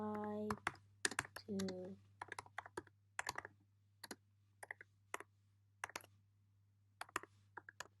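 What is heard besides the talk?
typing on a computer keyboard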